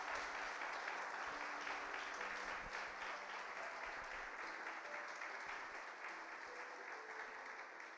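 A church congregation applauds at a sermon, steady dense clapping sustained evenly throughout, filling the room without voices.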